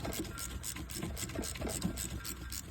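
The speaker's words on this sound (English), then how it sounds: "So E8 reverse torque socket, and we're just going to pull that upper alternator stud out" Steady, rapid rasping clicks of a ratchet driving an E8 reverse Torx socket to back out the upper alternator stud on a 2004 Ford Focus 2.0L, close and continuous with no talking.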